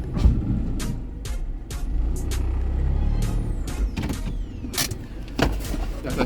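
A 2014 Nissan Lafesta with 275k and a transmission fault runs with a low mechanical rumble, broken by repeated sharp clicks, knocks and creaks at close range, irregular over several seconds.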